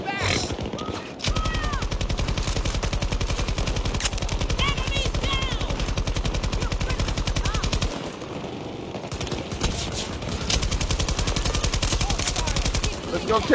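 Light machine guns firing in Battlefield 2042: long sustained automatic bursts with a fast, even rhythm of rapid close shots, briefly pausing midway before resuming just as loud.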